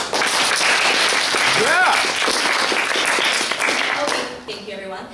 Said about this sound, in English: please clap or applaud